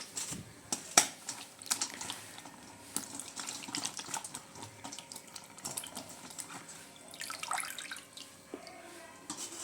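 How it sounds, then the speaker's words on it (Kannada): Young ridge gourds are washed under running water, with a soft, uneven splashing and trickling from close by and scattered handling knocks. "ಇವನ್ನೈತಲ್ರಿ ನೀರ ಹಾಕೊಂಡು ಸ್ವಚ್ಛಾಗಿ ತೊಳ್ಕೊಂಡು ಇಟ್ಕೊಳ್ಳೋನು"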